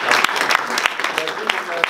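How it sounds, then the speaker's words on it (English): An audience applauds a speaker after a climate finance talk: loud, close clapping with sharp individual claps, with some voices mixed into the crowd noise. "Let's give Shawn a huge round of applause."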